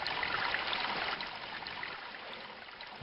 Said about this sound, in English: So this is that fountain.